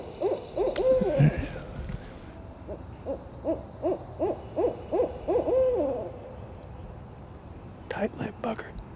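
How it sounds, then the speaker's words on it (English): A wild owl hoots in a spring woodland during a public-land turkey hunt, a run of about eight evenly spaced hoots at mid distance, with brief rustles and a short voice-like burst before and after. "There's an owl right here. He's gonna go to hooting in just a second."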